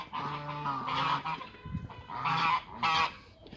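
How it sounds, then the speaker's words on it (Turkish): Farmyard goose honking repeatedly at close range, a series of loud, harsh nasal calls in quick bursts with brief gaps between them. "Bakın kaz bana saldırmaya çalışıyor."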